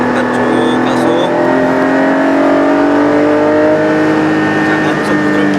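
A Porsche, either a Cayenne Turbo GT or a 718 Cayman GT4, accelerates hard on a race circuit with a loud, steady engine roar and a rising pitch throughout, close and continuous.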